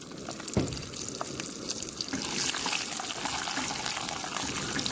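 Fried cashews and raisins (six kilograms) poured into a large batch of dried bean payasam prepared in Cheenikode village, a steady liquid trickling and splashing that runs continuously at close range, with no talk.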